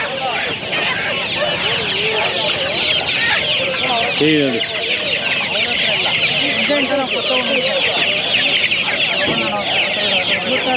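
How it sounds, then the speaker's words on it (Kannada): Many chickens clucking and squawking together at a crowded poultry market near Hoskote, Bangalore Rural, continuous and fairly loud, with a rooster-like call and some voices mixed in. "ಕೋಳಿ ಸಂತೆ ಬಂದಿದ್ದೀನಿ ನೋಡಿ ಆ ಥರ ಇದೆ ಕೋಳಿ"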